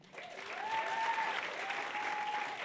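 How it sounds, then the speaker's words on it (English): Audience applause for a panel of experts at a teens and screens summit, steady clapping heard at a distance and fairly faint, with a brief tonal whine over it. "Just one more time, a huge round of applause for them."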